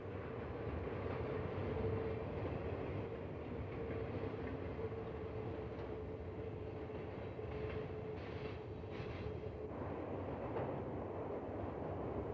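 A freight train with a caboose rolls past on the Mississippi River line in winter, a steady low rumble and rattle of wagons that holds at a constant distance throughout, with faint squeals and clanks over it.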